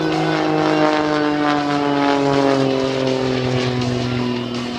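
An aerobatic airplane with a roughly 325-horsepower IO-540 engine performs aileron rolls at an air show, a loud continuous propeller drone whose pitch slowly shifts as it passes, with no break in the sound.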